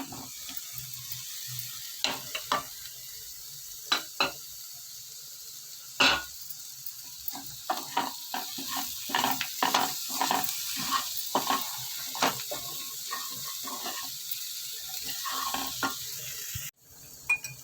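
Boiled, peeled and cut potato pieces fry in a generous amount of oil, a soft steady sizzle broken by sharp clinks and scrapes as the pieces are stirred in the pan, with no talking.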